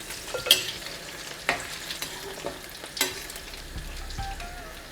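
Chili and gram-flour pakoras frying in hot oil for Punjabi kadhi, a steady bubbling sizzle with scattered clicks and knocks of a utensil against the pan, close and fairly quiet, with no talk.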